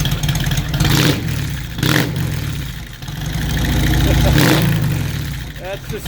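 2018 Harley-Davidson Heritage Softail with a Stage 2 M8 114 V-twin and Bassani True Duals exhaust, revving close by in several deep, loud throttle blips over a rumbling idle, with a voice talking between them.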